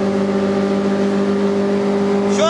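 Drag race cars pull hard in high gear, with a steady, loud engine drone and strong sustained harmonics throughout and a rising whine near the end; no talk is heard.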